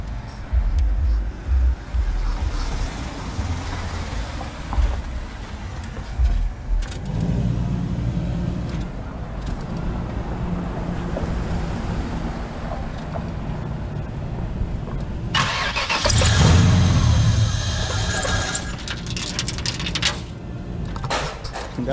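A car engine idling after start-up, a steady low rumble with some popping and hesitation at idle, fairly loud and close with wind noise, rising briefly near the end.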